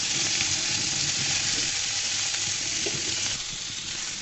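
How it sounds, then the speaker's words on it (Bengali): Pointed gourds (potol) frying in a pan for a chicken curry with potatoes, a steady dense sizzle and crackle running close and even throughout with faint stirring clinks. "পটলগুলোকে আমি ভেজে নিচ্ছি।"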